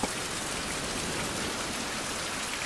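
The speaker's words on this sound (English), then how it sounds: "It's gotta rain." Rain pouring down steadily in a tropical island survival game, Survival: Fountain of Youth, a dense, even hiss of drops covering everything without pause, close and constant, with no voices.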